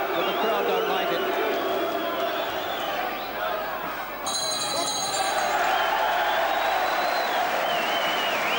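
A boxing crowd at a fight reacts loudly with a sustained, dense roar of disapproval, steady throughout and close, with a brief dip midway.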